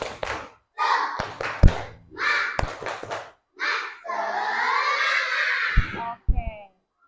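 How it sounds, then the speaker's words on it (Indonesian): Primary school class doing a rhythmic spirit clap, with sharp hand claps in short bursts between children's chanting voices, ending with a longer group shout; close and fairly loud in a classroom. "Oke, tepuk semangat dulu."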